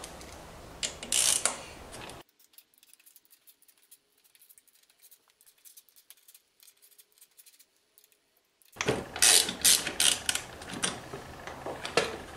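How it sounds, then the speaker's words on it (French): Screws being removed from a scooter's kick-start cover, with close mechanical clicking, ratcheting and metallic handling at the start, a long near-silent stretch, then another burst of tool clatter at the end. "vous allez devoir démonter votre carter de kick, celui-ci étant fixé par 12 vis faisant tout le tour de votre carter"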